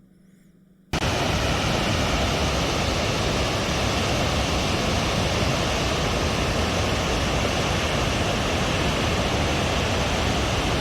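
Strbacki Buk, a large waterfall in a national park, roars in a dense, constant rush of falling water that starts abruptly after a brief quiet moment and stays loud and unbroken throughout.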